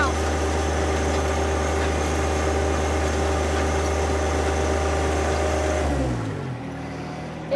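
A John Deere 1025R subcompact tractor engine runs with a steady low hum and rumble, idling loudly close by before winding down near the end.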